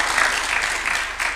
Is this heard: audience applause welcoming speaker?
yes